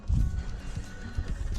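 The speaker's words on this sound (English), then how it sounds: "I'm gonna give grass to the horses." Horses on a horse farm in Ecuador at early-morning feeding time snort and stir, with low, close thuds of hooves and movement in short bursts.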